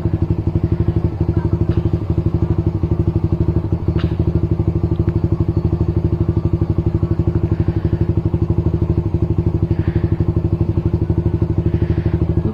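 Motorcycle running with no silencer, its exhaust a loud, close, rapid and steady popping rumble at idle that continues throughout, with faint background noise.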